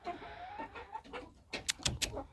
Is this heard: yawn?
no